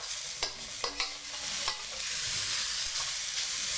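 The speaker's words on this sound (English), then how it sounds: "Cook until the vegetable slightly soft." Vegetables stir-fry in a pan for glass noodles, a constant close sizzle punctuated by several sharp spatula clicks and scrapes.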